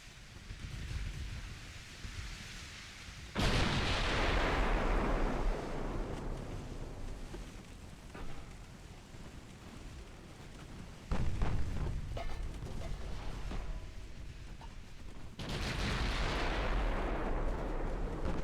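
Heavy naval guns of the German cruiser Prinz Eugen fire in the naval video game Ultimate Admiral: Dreadnoughts, three loud booming salvos that each roll off into a long rumbling decay, with steady wind and sea noise between them and no talk.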